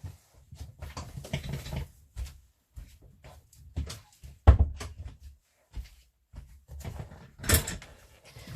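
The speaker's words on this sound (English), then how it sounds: "going to shut the door, hold on." Indoor bumps and rattles with a sharp thud midway, like a door being pushed shut, followed by more scattered knocks and a rustle.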